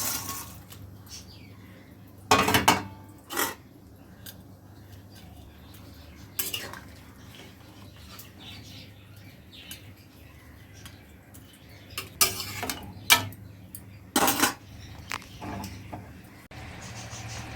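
Pots and metal utensils clink and knock in a kitchen as fish pieces for a chanda fish curry with gati kochu go into a pan, sharp irregular clatters over a quiet low hum, no speech.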